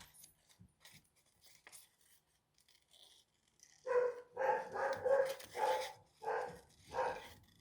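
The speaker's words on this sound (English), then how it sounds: "I don't know what she's barking at." A dog barks in a rapid series of about seven loud, sharp barks after a few seconds of quiet, faint background noise.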